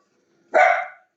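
A single loud, close bark from a dog, brief and sharp, alone against silence.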